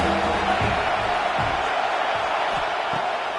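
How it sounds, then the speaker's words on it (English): A home crowd roars in a college football video game, with steady, loud stadium noise filling the clip. Faint thuds and bursts poke through the broad crowd wash. "how nice is it to have the home crowd going absolutely bananas?"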